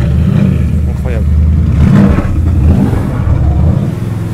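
A car engine revs hard and loud with a deep, sustained rumble, a tubular-chassis build thought not to be a Clio 4 RS engine; people talk over it.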